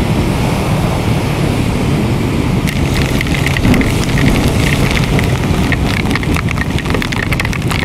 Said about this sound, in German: es ist Hagel